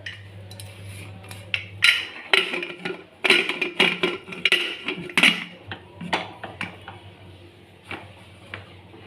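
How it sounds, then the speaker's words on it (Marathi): A pressure cooker lid is fitted onto the pot in a home kitchen, a series of close metallic clinks, knocks and scrapes in irregular bursts, fairly loud against a quiet background. "कुकर झाकण लावून घेते कुकरचं"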